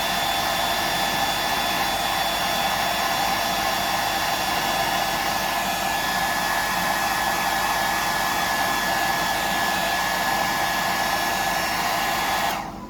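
A hair dryer blows steadily and loudly at close range, drying a 175mm mullet, running without a break for about twelve seconds before cutting off at the end.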